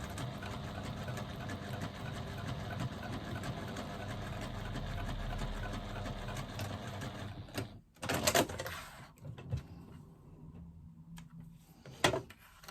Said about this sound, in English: we're just going to stitch across the bottom using an 1/8 of an inch seam allowance